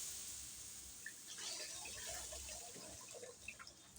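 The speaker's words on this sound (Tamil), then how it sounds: "இப்போ புளியை கரைச்சி ஊற்றிக்கலாம்." Dissolved tamarind water is poured into a pot of rasam with oil-fried spices, making a soft, continuous splashing trickle with small bubbling gurgles. It is fairly faint, and no one speaks.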